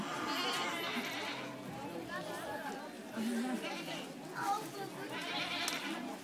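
A performer's voice imitates a goat's bleat during a children's theatre school puppet show, mixed with ongoing storytelling speech and light chatter.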